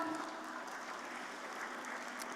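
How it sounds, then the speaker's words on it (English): Applause rises from the audience at a stock market industry conference, Stocktech 2026, as an executive director of SEBI is called to join the stage, a steady, moderately distant wash of clapping that holds evenly throughout with no voices. "Can we have a huge round of applause for him"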